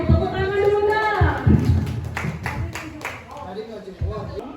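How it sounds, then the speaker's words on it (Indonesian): An audience at a school guidance-and-counseling teachers' good-practice sharing session claps after a counting exercise. Talk and voices run first, then a burst of scattered hand claps builds in the middle before fading back under murmuring. "Tepuk tangan dulu dong."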